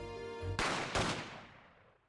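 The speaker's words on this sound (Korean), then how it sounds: "아마 총성이 2발. 거의 동시에 들렸어." Two gunshots go off almost together in an Ace Attorney courtroom game scene: a pair of sharp, loud bursts that decay into a fading rumble, with a sustained musical tone before them and no speech.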